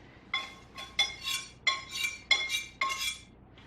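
A metal utensil scrapes and taps around a pan of browned butter, six or seven ringing clinks with brief scraping swishes between them, close and clear over a quiet background.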